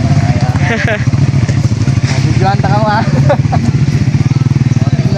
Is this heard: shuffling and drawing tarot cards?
no